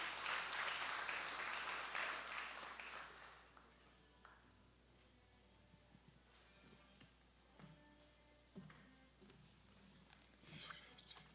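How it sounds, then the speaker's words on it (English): Audience applause at a formal farewell ceremony for an outgoing secretary of the service commission, a dense clapping burst that fades after a few seconds, leaving scattered faint claps and room noise. "Another round of applause, ladies and gentlemen."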